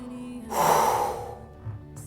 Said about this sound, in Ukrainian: Пушечний видих.